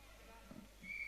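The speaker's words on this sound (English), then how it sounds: "blows the whistle to kick proceedings off" A referee's whistle sounds to start a futsal match at the Optegra Championship, a brief sharp tone near the end of the clip, fairly faint over indoor court ambience and low murmur.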